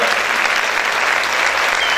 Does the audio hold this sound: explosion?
no